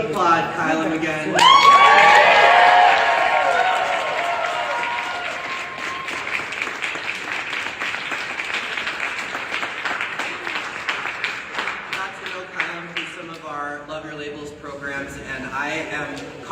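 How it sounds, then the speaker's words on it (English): A meeting-room audience in Worcester bursts into loud applause with cheering and whoops, swelling quickly, then settling into steady clapping that thins out as voices return near the end. "Can we applaud Kylam again?"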